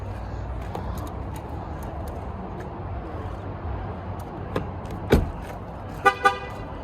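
A car's warning horn gives two short, sharp chirps near the end, signaling its keys were left outside, following a few faint clicks and a muffled thump over quiet background noise.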